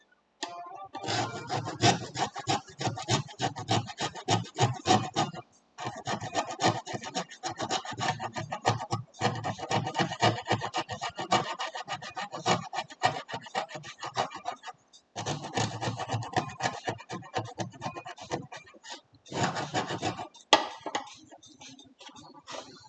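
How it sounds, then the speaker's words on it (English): Quiet, steady rasping and scraping comes from work on the lining of samurai armour in a workshop. Repeated rubbing strokes continue in long runs, broken by a few short pauses. "Okay, we're almost done scraping this thing. This part is particularly stubborn."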